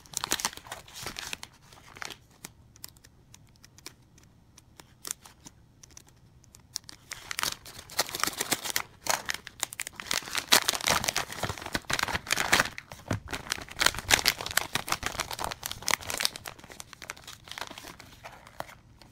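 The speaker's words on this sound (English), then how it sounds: "Okay, that's probably going to rip. So let me open it up." Packaging for an iPhone battery case is torn open, with quiet crinkling and scattered rustles at first, then a dense run of loud ripping and crumpling noises close up.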